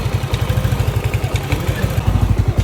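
A 63mm block motorcycle engine build with a 36mm throttle body and 4S1M head idles steadily up close, its low, regular firing pulses thumping in a continuous rhythm with faint mechanical clatter on top.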